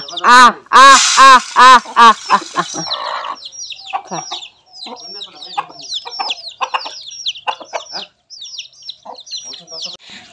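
Sick village chickens clucking and squawking loudly up close as they are fed rice mixed with medicine, with a burst of a woman's repeated calling at the start, then busier clucks and chirps continuing.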